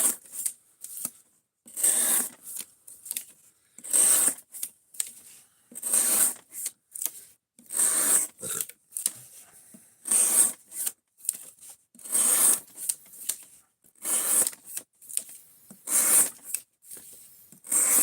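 Close-up, a knife is pushed through cardboard again and again, each stroke a rasping, scratchy tear lasting under a second, in a steady rhythm with brief pauses between cuts.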